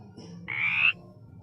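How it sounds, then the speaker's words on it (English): A frog gives a single loud, rasping croak lasting about half a second, standing out clearly against a low background hum with no voices. "it is a frog."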